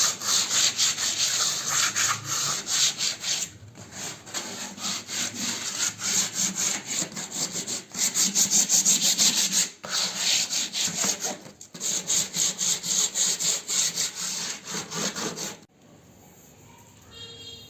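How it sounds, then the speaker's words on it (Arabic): Sandpaper scrubs back and forth across a painted wooden bathroom door in quick rhythmic strokes, loud and close, with brief pauses before the rasping resumes and fades near the end. "بعد ما بينشف بقى نبدأ نصنفر فيه."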